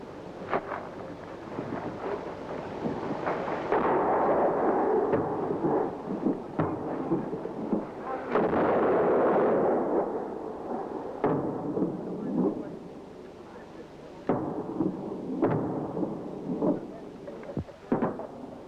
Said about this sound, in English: were now the target for harassing fire from Argentine artillery